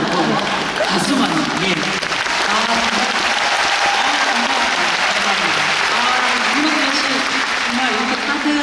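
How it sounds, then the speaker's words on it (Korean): Sustained, dense applause fills an audience hall at a classical opera concert of Verdi and Puccini music, loud and steady for several seconds while a voice speaks faintly over it. "박수만요."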